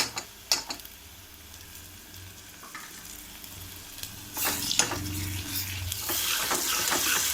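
Ginger-garlic paste with turmeric fries in hot oil in a pan, a steady close sizzle that swells louder midway as a spoon clinks and scrapes through it.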